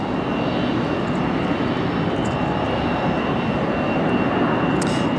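A Delta airliner departing Raleigh Durham airport produces a loud, continuous jet engine roar that holds steady and close throughout, with no pauses or talking.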